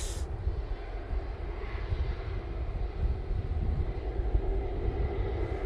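A plane taking off at Manchester Airport, heard as a steady, broad jet engine roar at moderate distance, holding level and slightly swelling over several seconds with no talk.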